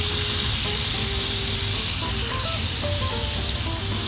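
Squash searing on a hot Blackstone griddle, a loud steady sizzle and hiss running throughout without pause.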